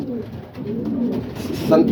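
Soft pigeon cooing, a low throaty warble repeating through the two seconds, with some faint background activity and a brighter burst near the end.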